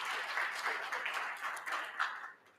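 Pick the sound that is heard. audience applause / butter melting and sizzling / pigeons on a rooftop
audience applause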